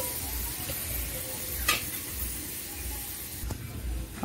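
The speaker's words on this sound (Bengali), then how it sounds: "জল দিয়ে আমরা এটাকে ফুটিয়ে নিচ্ছি।" Okra curry boiling in a pan after water is added, a steady low bubbling and soft hiss with faint rhythmic burbles throughout, one or two small clinks standing out.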